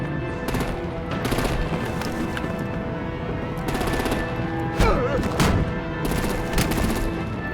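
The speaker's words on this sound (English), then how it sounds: "Break out the artillery and disable their vehicles!" Rapid bursts of gunfire rattle at vehicles in the video game Batman: The Enemy Within, loud and dense, with heavy repeated shots and impacts filling the whole stretch over a constant rumbling background.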